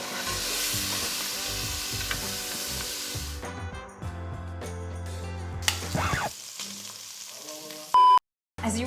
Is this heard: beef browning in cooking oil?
yes